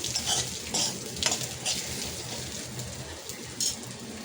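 Sliced onions fry in a spoonful of oil in a pan for a Kolhapuri-style misal, a steady close sizzle with a few soft scrapes of a spoon, with no voices.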